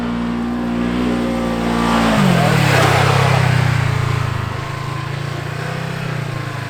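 A new off-road vehicle climbs a steep hill, its engine loud and close, the note dropping lower partway through and then labouring steadily under load.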